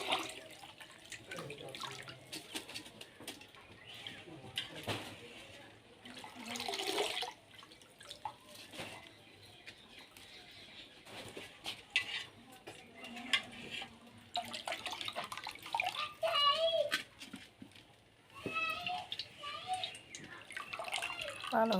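Vermicelli is rinsed several times in water, with splashing, running and dripping water coming in uneven bursts close by, while people talk intermittently and a voice is heard.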